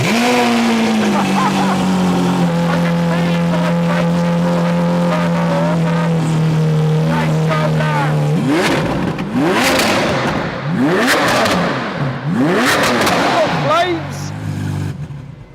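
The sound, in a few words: Lamborghini V12 cold start, racing exhaust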